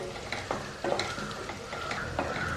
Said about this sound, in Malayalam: ഒന്നുകൂടെ ഫ്രൈ ആവണം. നല്ലൊരു ബ്രൗൺ കളറാവണം.